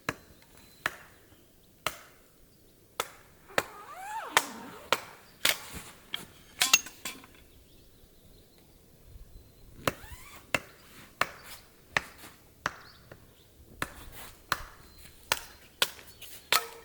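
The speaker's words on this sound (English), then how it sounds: "It helps if your axe is sharp." A dull axe chops wood at a mountain campsite in the Rocky Mountains, with sharp, separate thwacks landing roughly every second, fairly close and clear, with some quieter rustling between strikes and no voices.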